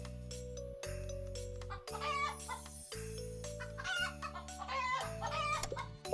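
Chickens in the video game Terracards, repeated clucks and a crow over a looping backing track, mid-level and recurring in short bursts.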